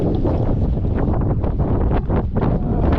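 Gusting wind buffets the microphone on a Tasmanian river during a dinghy cruise, a loud continuous low rumble that swells and dips for a few seconds with nothing else clearly audible.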